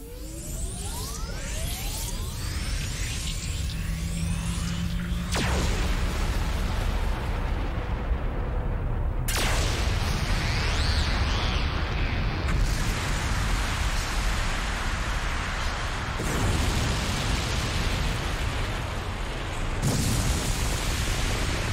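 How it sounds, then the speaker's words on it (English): A cannon blast in the Growlanser 5 video game, a massive, roaring explosion that rumbles on in a long, dense wash of noise with several sudden surges, loud and sustained. "May this be the first and the last blast of this cannon"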